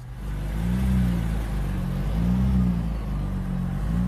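A car engine just after a cold start, revved gently and steadily: a loud, continuous low rumble whose pitch rises and falls in slow waves, with no talking over it.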